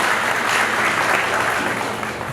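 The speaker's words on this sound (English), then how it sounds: "A round of applause, please." Round of applause from the audience at a founders summit session, a steady wash of many hands clapping at moderate volume, tapering slightly toward the end.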